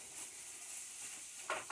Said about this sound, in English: after the butter melts, we're soaking it in.